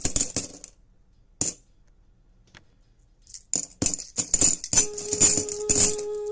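Gold coins scooped up and handed over: bright metallic clinks and jingles, a few sharp ones early, then a busy cluster of overlapping chinks with a faint steady tone underneath.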